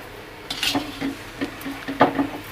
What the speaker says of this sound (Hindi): इस तरह से हिलाते रहो जब तक चीनी अच्छी तरह मिक्स ना हो जाए